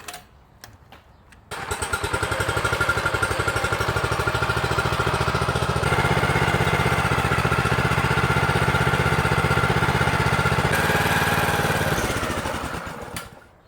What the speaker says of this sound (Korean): 자, 한번 시동을 걸어보자